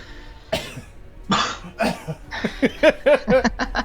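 A person coughs close to the microphone in an indoor talk-show setting, a few separate bursts followed by a quicker run of short rhythmic coughs or throat clearing.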